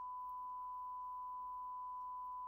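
A steady, pure sine-wave test tone plays alone and unbroken at low level, with the white noise fully ducked out by a sidechain compressor so no hiss comes through.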